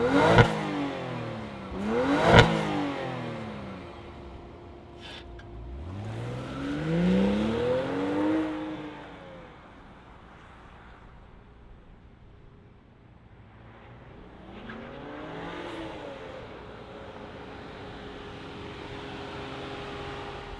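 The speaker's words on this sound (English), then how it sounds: "this does have a straight six, not a V6, and it is turbocharged. But why don't we go ahead, let's fire it up and see it move" A 2025 BMW X7 xDrive40i with a turbocharged straight-six starts up and revs in a few rising and falling sweeps, sharp at first then fading to a quieter idle, heard nearby with no talk.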